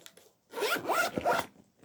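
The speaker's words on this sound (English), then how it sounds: "Zip that up." A bag zipper pulled closed in one quick, close, raspy run lasting about a second, preceded by faint handling clicks, with no talking.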